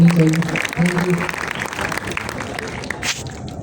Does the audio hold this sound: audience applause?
yes